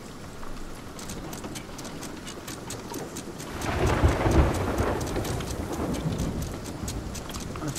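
Heavy rain and a thunderstorm in Sea of Thieves at sea aboard a sloop, steady hissing downpour with a deep rolling thunder swell building midway and lingering, no talk.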